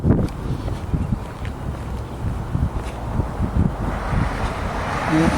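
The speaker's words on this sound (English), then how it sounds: "This wind." Strong wind buffets an outdoor microphone at an RC plane flying field, a steady rumbling roar with gusty swells that grow louder toward the end, and no talk.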